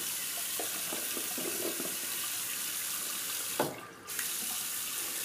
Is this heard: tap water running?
yes